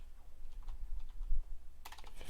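Fingers type on a computer keyboard at a spreadsheet, producing quick, irregular clacking keystrokes close by, with a denser flurry of presses near the end.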